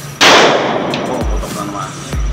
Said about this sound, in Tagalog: pumuputok na naman.